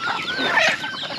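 Close, brief clucking and chattering from native chickens and turkeys gathered together, with no voices.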